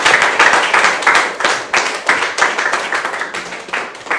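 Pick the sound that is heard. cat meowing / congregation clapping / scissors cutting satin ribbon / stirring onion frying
congregation clapping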